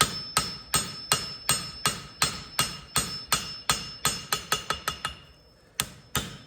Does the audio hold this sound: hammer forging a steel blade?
yes